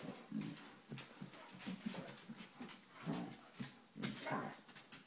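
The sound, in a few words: dog whimpering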